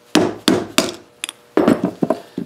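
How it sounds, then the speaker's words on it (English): A rubber dead blow hammer strikes a wooden dowel set in a 5/8-inch coin ring die to drive out a plug, giving a series of close, dull thuds in an irregular rhythm, with a few lighter taps in between. "just place that in there and then hammer that down with your rubber dead blow hammer"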